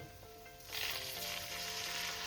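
Pre-boiled water poured into a sizzling pan of cabbage-lentil kofta curry with potatoes, a loud hiss and bubbling surge after a quieter start, steady and close with no talking.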